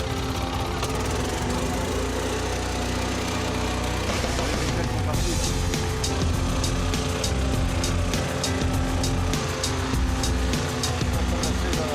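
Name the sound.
rescue boat engine starting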